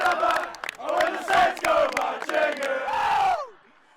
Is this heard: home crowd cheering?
yes